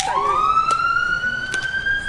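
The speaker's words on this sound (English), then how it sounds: "I'm gonna bless the canoes after the siren goes by" An emergency vehicle siren wails close and loud at a canoe blessing, its tone gliding steadily upward with strong harmonics and a few brief broadband bursts, heard alone without speech.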